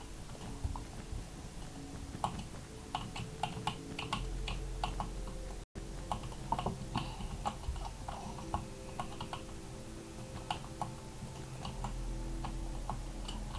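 Keys clatter on a computer keyboard during a Mineplex Master Builders minigame, with quiet irregular clicks running in bursts over a low steady background hum.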